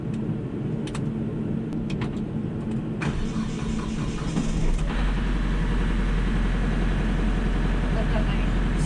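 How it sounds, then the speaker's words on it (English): A Kubota LX3310 compact tractor's engine cranks and catches, then settles into a steady, loud, low idle that continues to the end, with close mechanical clatter and rumble. "start the tractor"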